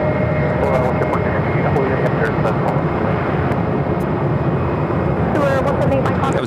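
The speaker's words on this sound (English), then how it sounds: "That was a Denver Air connection at Flight 3101. Metroliner." Denver Air Connection Metroliner twin-turboprop at Phoenix airport, a steady engine drone holding throughout at moderate distance with no gaps.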